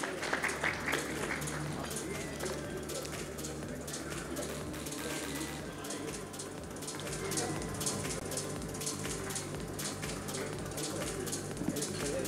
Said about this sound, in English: Let's have a round of applause, ladies and gentlemen.